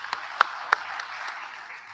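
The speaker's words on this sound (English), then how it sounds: "let's applaud everyone who has been here" Audience applause at a chancellor's inauguration and investiture ceremony, a steady wash of many hands clapping with a few louder individual claps standing out, moderately distant.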